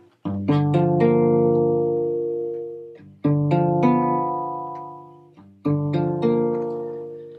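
Three strummed jazz guitar chords, root position voicings moving from dominant 7 to minor 7, ring out one after another, each left to sustain and fade before the next, clear and close with no talking.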